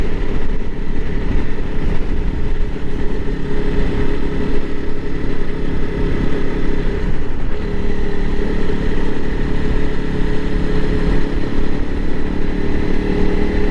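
A 2021 Honda CRF300L Rally dual sport motorcycle being ridden, its engine droning steadily and loudly throughout with constant wind and road noise, no voices.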